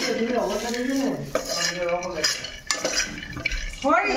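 A utensil stirs food in a pan in a home kitchen, making close clinks and scrapes of metal on cookware in an irregular rhythm, with a voice talking alongside.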